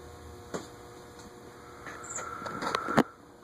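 Nutone Slimline PFL-36 ceiling fan in antique brass running at low variable speed: a faint, steady hum with scattered small clicks and ticks nearby, growing slightly louder toward the end.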